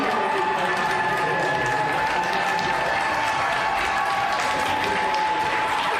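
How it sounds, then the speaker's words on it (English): Sustained applause from members in the Canadian House of Commons during Question Period, a dense, steady clapping of a large chamber crowd lasting the whole stretch, with no speech over it. "They applaud."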